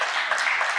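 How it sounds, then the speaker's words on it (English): A brief burst of audience clapping at a technical talk on software testing strategy, a quick dense patter of hands heard close and fairly loud for under a second. "you can clap"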